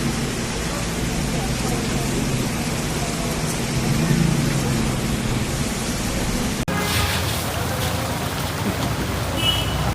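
Heavy rain pours steadily during a thunderstorm with hail in Bengaluru, India, a dense, loud broadband roar throughout, with a sharp shift in texture partway through as the downpour continues.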